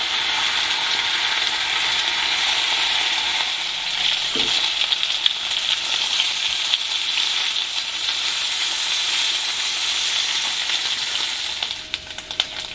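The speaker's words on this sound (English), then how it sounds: "I'm going to continue frying the rest of my bacon like this." Bacon slices, cut in half, fry in a thin layer of oil in a hot pan, giving a steady close crackling sizzle with a brief clatter near the middle and no talking.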